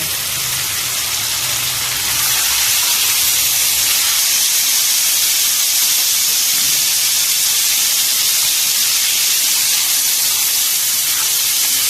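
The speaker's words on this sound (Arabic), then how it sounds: "هنحط بقى القوانص، هنحط كله مع بعضه طالما انا سلقاه نص سلقه بره." Chicken gizzards, half-boiled beforehand, going into a hot cooking pot, giving a loud sustained hiss of steam and sizzle that swells after a couple of seconds and holds steady, no talking.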